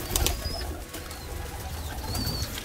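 Soft, low pigeon coos murmur through a steady rumbling background, with a few faint higher chirps drifting in and out.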